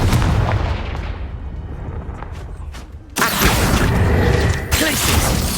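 A Confringo spell blast in Hogwarts Legacy erupts as a loud, sudden burst of booming, crackling game effects, following a quieter stretch and holding strong with a second surge near the end.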